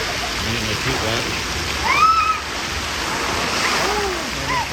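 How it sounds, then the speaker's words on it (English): Water splashes at a cruise ship waterpark, a broad rushing wash with a brief louder surge midway, set against steady outdoor ambience and distant voices. "there's that splash"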